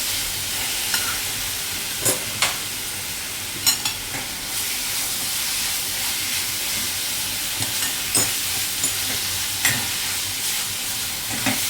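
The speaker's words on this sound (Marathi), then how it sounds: "आता हे मिश्रण आपल्याला कढी सोडेपर्यंत परतून घ्यायचे आहे" Semolina dough for steamed modak is sautéed and stirred in a pan, making a steady close sizzle broken by regular scraping clicks of the spoon, with no voices.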